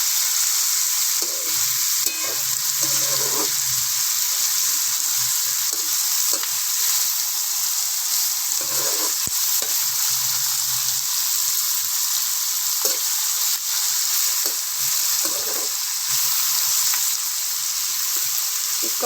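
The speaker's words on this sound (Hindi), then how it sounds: "ये भी हल्की सी फ्राई साथ ही हो जाएंगी।" Green chillies and chopped coriander sizzle steadily in hot oil with okra and onion, with occasional stirring scrapes and no talking.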